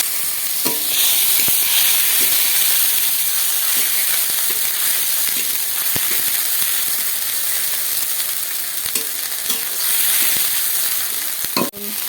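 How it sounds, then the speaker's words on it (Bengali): Ground spice paste and chopped tomato fry loudly in hot oil in a pan after dried chilli, bay leaf and cumin. A dense, close sizzle runs throughout, with intermittent scraping clicks of stirring and a sharper clatter near the end. "এবারে আমি বেটে রাখা মশলা আর টমেটো কুচি দিয়ে"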